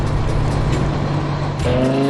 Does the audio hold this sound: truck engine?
yes